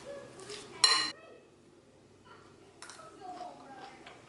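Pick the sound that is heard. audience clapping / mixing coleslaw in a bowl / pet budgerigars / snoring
mixing coleslaw in a bowl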